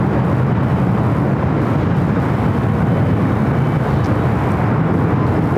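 A Lufthansa Boeing 747-8 Intercontinental arriving at LAX from Frankfurt gives a steady, loud broadband roar with a low rumble that holds evenly throughout, with no voices.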